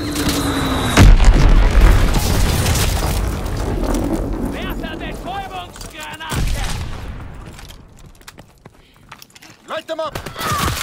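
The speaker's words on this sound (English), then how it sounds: "Fritz X bomb mission underway." A Fritz X bomb explodes in the Call of Duty WWII video game, a loud blast with a short rising whistle before it, followed by scattered gunfire bursts and shouted voices in the background.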